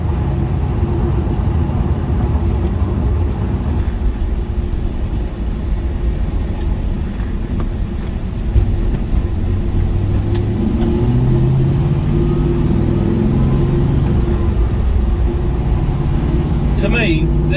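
An old truck's engine runs steadily while driving, a low, rumbling drone with a slight surge partway through, heard up close with people talking over it.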